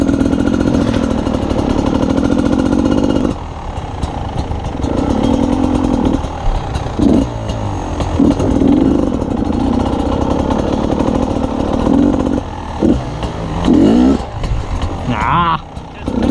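A dirt motorcycle's engine revs and chops repeatedly on the throttle, loud and close, with a person talking over it.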